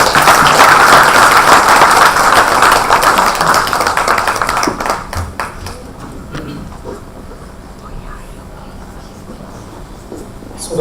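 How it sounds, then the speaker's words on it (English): Hall audience at an annual community event claps loudly for a panelist called to the stage, thick clapping that thins after about five seconds into scattered claps and room murmur before fading low. "Big applause for him."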